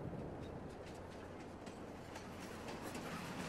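In Farming Simulator 22, a train rolls along rails near a forest logging line, with a continuous close rumble and faint rhythmic clicking from the wheels throughout.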